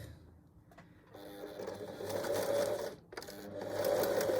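Sewing machine stitching the edge of a fabric cushion cover, a close steady mechanical whir that starts after a quiet moment, pauses briefly, then resumes and runs on.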